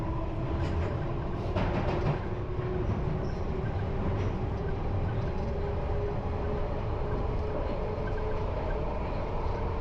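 A London Underground Piccadilly line train runs through a long deep-level tunnel, giving a steady, heavy rumble and roar throughout with faint wheel clatter, heard from onboard without voices.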